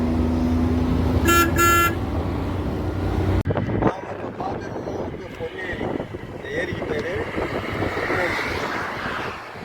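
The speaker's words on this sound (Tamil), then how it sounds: "சார் வண்டியை இயக்கிட்டு இருக்காங்க." Car driving along a road on the way to the Ponneri lake near Gangaikonda Cholapuram, with a steady engine and road rumble, brief horn toots early on and wind buffeting throughout, while people talk over it.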